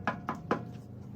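Three close, evenly spaced knocks on a wooden door, crisp and moderately loud, sounded as an effect during a Little Red Riding Hood storytelling performance.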